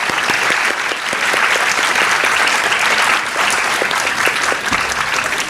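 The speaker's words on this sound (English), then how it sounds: "A big round of applause for our panelists." Applause from a seated conference audience for panelists at an actuarial summit, a full, dense wash of clapping that holds at a steady, loud level from start to finish with no speech rising above it.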